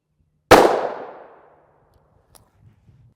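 A single loud gunshot strikes an NIJ Level IIIA bulletproof vest, a sharp crack decaying over about a second, followed by a few faint clicks and rustles.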